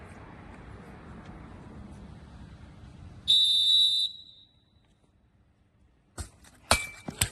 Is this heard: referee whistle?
yes